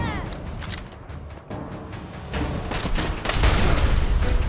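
Gunfire from the post-apocalyptic game Fallout 4 during a fight with super mutants: a dense run of sharp shots and crackling bursts that grows louder and heavier toward the end, with no talk over it.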